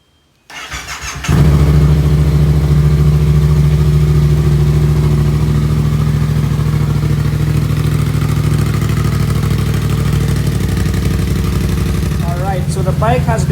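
A 2016 Yamaha MT-07 motorcycle engine starts with a short crank, then settles into a loud, steady, close idle that runs unbroken, with a brief flutter near the end.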